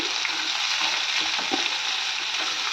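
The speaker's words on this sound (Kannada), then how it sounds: "ಮಸಾಲೆ ಎಲ್ಲ ಮೀಡಿಯಮ್ ಫ್ಲೇಮಲ್ಲಿ ಇಟ್ಕೊಂಡು ಗೋಲ್ಡನ್ ಬ್ರೌನ್ ಕಲರ್ ಬರೋವರೆಗೂ ಫ್ರೈ ಮಾಡ್ಕೋಬೇಕು" Masala with coconut fries over a medium flame in a pan for fish sambar, giving a loud, dense, unbroken close sizzle with a few faint stirring scrapes.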